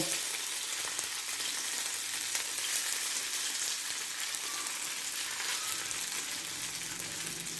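Moong dal aluwadi pieces frying in hot oil give a steady, close, dense sizzle with fine crackle that holds evenly throughout, with no talking.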